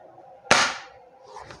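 A Kjworks M700 takedown bolt action airsoft rifle fires a single sharp, close crack that decays quickly, followed by faint mechanical handling noise.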